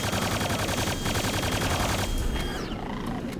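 Enemy gunners open fire in Quake 2 on Xbox 360, with dense rapid machine-gun bursts that sound loud and close, then a brief lull with a metallic whirring.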